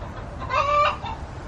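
Homestead chickens cluck in a brief, moderately close burst over a steady outdoor background, with no one speaking.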